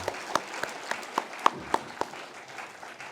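A few sparse, evenly spaced hand claps from the congregation at Yeomcheon Church after the choir sings. They are faint and thin, about ten separate claps over three seconds, then they trail off into quiet room tone.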